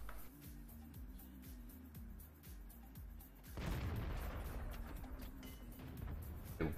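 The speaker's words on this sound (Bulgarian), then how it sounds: "Ще го стрелям на сляпо" Gunfire in an online multiplayer shooter: a run of rapid, regular shots followed by a louder, denser burst of blasts, heard close and continuous without talk.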